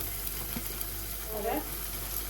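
Onions fry in a pan with a soft, steady sizzle. The crackle stays fairly quiet and even throughout, over a low background hum.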